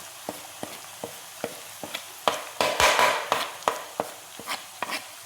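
A spoon stirs mango pickle mixture with green chillies in a pan, making a steady series of close, sharp scraping clicks roughly every half second, with a brief sizzling swell in the middle.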